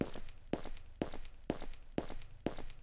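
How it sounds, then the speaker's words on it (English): Looping video game footsteps thud at a steady even pace, about two steps per second, close and clear with no other sound. "I like the looping foot sound."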